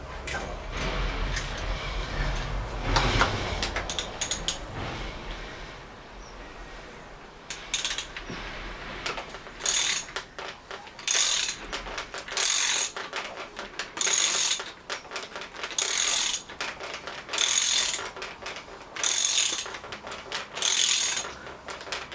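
A ratchet wrench clicks in repeated bursts while turning a bolt on a mechanical job, each burst a rapid run of pawl clicks separated by brief pauses, close and fairly loud with no talking.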